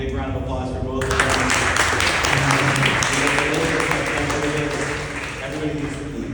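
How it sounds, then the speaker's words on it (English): An audience at a business improvement district annual meeting applauds. Steady clapping fills the room for several seconds while voices carry beneath and around it. "big round of applause for both of them"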